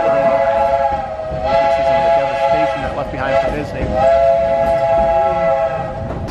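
Steam train on the Magic Kingdom railroad, with a sustained multi-tone whistle sounding loudly over the rumble of the moving cars while someone talks nearby.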